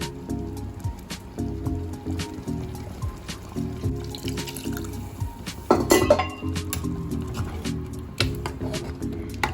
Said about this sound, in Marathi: आवश्यकतेनुसार यात आपण पाणी टाकून घेऊया।